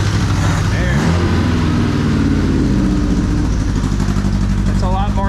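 A cheap Italian sports car's engine cranks, catches and revs, its low rumble rising and falling close by while people talk over it and a higher whine surfaces near the end.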